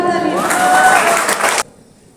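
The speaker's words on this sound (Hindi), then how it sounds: "जोरदार तालियां" An audience bursts into loud applause and clapping at a Republic Day gathering, sustained for about a second and a half before cutting off abruptly into quiet.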